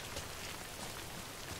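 Rain pours down in the video game Death Stranding, an unbroken hiss of drops on the ground, steady and fairly close, with no voices over it.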